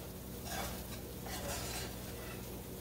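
Flour cooking in a pan as a roux for cube steak gravy, stirred steadily with a utensil under a soft continuous sizzle, moderately close with no talking.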